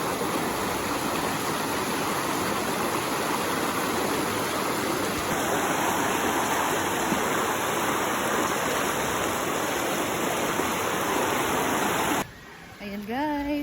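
A high, rain-swollen river rushes in a loud, steady roar while someone wades across it on foot, then the sound cuts off abruptly to quieter ambience with faint voices.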